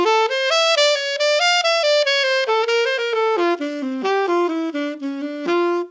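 A single melodic line plays the opening phrase of a bebop break, a run of bright, quick notes with passing tones, heard solo, clear and steady, with no talking.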